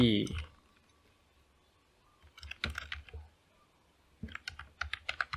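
Quick key clicks on a computer keyboard while Node.js code is written, two short clusters of rapid typing separated by a pause, close and clear, following a brief spoken word at the start.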